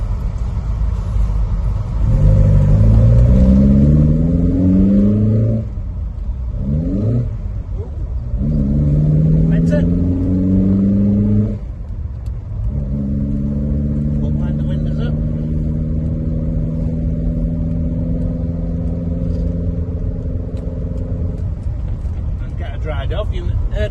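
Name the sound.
car engine revving with a missed gear shift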